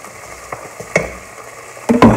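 Chicken and chopped tomatoes cooking in a pan, with low steady sizzling broken by a few soft stirring scrapes and a louder burst of frying near the end, no voices.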